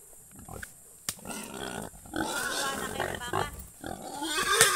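A farm pig about to be slaughtered squeals and grunts loudly in harsh, strained bursts that build toward the end, with people's voices close by.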